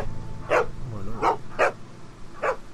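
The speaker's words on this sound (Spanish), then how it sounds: "¿Qué coño come el perro, tío?" A dog barks four times in a video game scene, sharp separate barks spaced evenly apart with a low background hum, and no talk over them.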